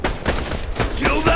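An automated turret in Borderlands 2 fires a rapid burst of close, loud gunshots in a quick rhythmic volley.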